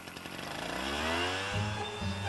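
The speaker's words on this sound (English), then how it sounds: "Are you not concerned by this leaf blower in your neighborhood?" A leaf blower runs in a residential neighborhood, giving a continuous, buzzing engine drone with a rough whine that holds steady and slightly rises for a couple of seconds.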